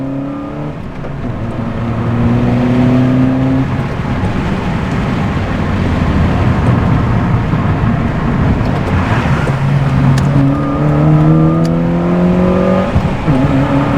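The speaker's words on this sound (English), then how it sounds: "I'll roll through some of the gears here." A Honda Fit with a shifter mod driving and working through the gears, its engine rising in pitch, dropping at each shift, then climbing again, loud and close from inside the car with no talk.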